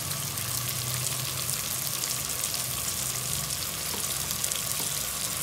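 Tomatoes fry and soften in a pan, giving a steady, dense sizzle with fine crackling that runs evenly throughout at close range.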